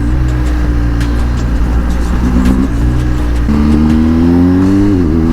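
A 2022 BMW R1250 GS Triple Black motorcycle engine drones loud and close while riding, its pitch rising through each gear and then dropping as the rider shifts up, steady and unbroken throughout.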